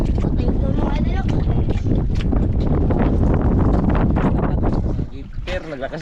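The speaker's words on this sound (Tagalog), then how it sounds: "Naglakas yung hangin." Strong wind blows over open sea while fishing from a small boat, roaring gusts buffeting the microphone and easing off near the end, with people talking throughout.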